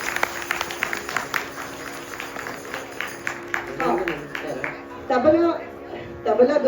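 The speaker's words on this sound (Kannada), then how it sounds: "ಜೋರದ ಚಪ್ಪಾಳೆಯೊಂದಿಗೆ ಪ್ರೋತ್ಸಾಹಿಸೋಣ" Applause for a performer at a Makara Sankranthi event comes as a burst of clapping that fades over a few seconds. Speech carries on through it and over it.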